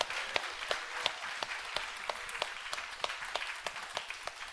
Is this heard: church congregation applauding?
yes